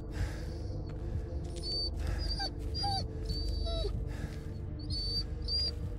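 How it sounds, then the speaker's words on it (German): Whining dog in the horror game Blair Witch: repeated thin, high whimpers and short yelps come in irregular bursts over a constant low ambient drone, close and clear with no voices. "Gott, wie er winselt."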